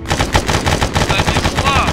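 Rapid gunfire from the video game S.T.A.L.K.E.R., a dense run of loud, close shots crackling continuously, with faint voices mixed underneath.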